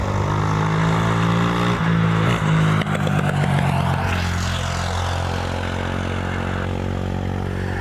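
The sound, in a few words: United Boeing 777 airliner taking off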